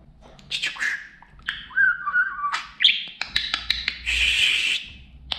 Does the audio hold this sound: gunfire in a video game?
no